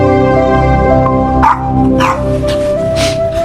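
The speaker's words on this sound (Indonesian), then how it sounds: "tiba-tiba anjing peliharaannya yang ada di luar menggonggong terus" A pet dog barks outside a house, several sharp barks and yips breaking over a loud sustained tonal background, close and prominent with no talk.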